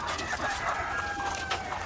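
White Leghorn chickens in a coop, steady clucking and soft calls from several birds with a faint crow-like call in the background.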